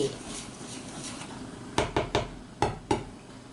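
Dry baking ingredients, bread flour, all-purpose flour, baking powder and baking soda, are stirred together in a bowl for Thai fried dough, giving a run of five sharp clinks and taps of the utensil against the bowl over a soft background hiss.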